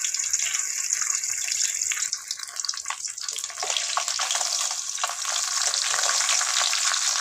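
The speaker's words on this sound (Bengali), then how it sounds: "মাছ দিয়ে দিয়েছি, উলটপালট করে লাল করে ভেজে নিব।" Rohu fish pieces fry in hot mustard oil with a loud, steady, close sizzle and crackle that runs throughout, with a brief dip as the pieces are turned.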